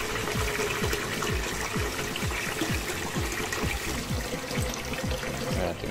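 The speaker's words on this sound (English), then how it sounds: "So I'll be putting some cold water on this now." Cold water pours steadily into a pressure cooker while preparing Jamaican-style rice and peas, a continuous close splashing gush with bubbling glugs and no voices.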